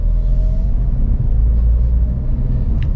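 A car engine rumbles low and steady as it pulls away in second gear after stopping, heard from inside the cabin with no talk.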